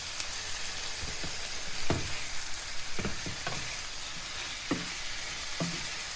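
Green beans and carrots frying in a pan with tomatoes, a steady loud sizzle running throughout, broken by scattered clacks and scrapes of stirring.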